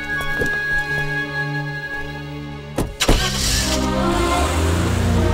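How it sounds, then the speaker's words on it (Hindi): A car engine cranks and catches, then revs and pulls away, its steady idle hum giving way to a louder rising drone of driving off, close and prominent with no talk. "राजीव गाड़ी चलाओ"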